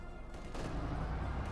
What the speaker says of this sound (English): Ooh, incendiary piercing rounds.